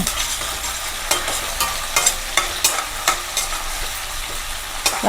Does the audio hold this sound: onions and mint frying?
yes